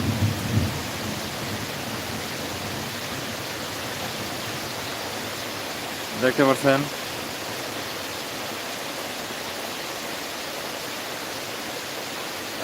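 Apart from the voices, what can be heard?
heavy rain falling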